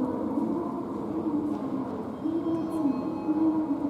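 A Sapporo subway train approaches Odori station underground, producing a steady low rumble and hum with faint high metallic squeals, moderately loud and continuous.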